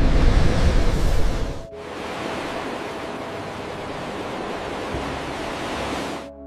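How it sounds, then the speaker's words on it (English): Ocean waves surging in a dense roaring wash of surf, loud and continuous, with one heavy wave breaking and then a sustained rushing swell with no voices. "Waves roared in angry surges."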